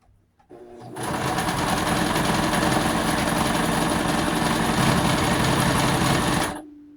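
Sewing machine stitching a skirt and jeans together to make wide-leg flares, running steadily and loudly for about six seconds with a dense, even mechanical whir, starting and stopping cleanly.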